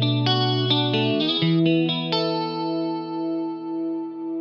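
An electric guitar plays a short run of notes that ring out into a shimmering, swirling reverb tail with pitch shifting and modulation, and slowly fade.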